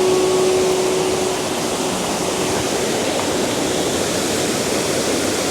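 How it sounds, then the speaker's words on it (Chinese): Cataract Falls pours along a hiking trail in Marin County near San Francisco, a steady, loud broadband roar of rushing water that fills the whole stretch without a break. "这瀑布蛮漂亮的"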